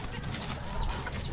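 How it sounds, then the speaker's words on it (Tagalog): Chickens cluck and murmur nearby in a rural yard, soft overlapping calls over a steady background of ambient noise. "itong mga manok na to"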